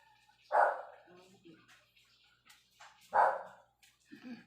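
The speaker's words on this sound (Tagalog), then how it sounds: "Ito yung aming aso." A dog barks twice, a few seconds apart, at fairly close range, with quieter background sounds between the barks.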